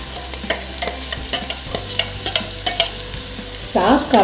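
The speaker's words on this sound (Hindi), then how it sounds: "तो अब मैंने जो ये साग को अच्छे से पीसा हुआ है उसके पेस्ट को मैं डाल दूंगी अपनी इस कढ़ाई में।" Ground saag leaf paste frying in a kadhai while being stirred, with a steady sizzle and repeated rhythmic scrapes of a spoon against the metal, close and fairly loud, no talking.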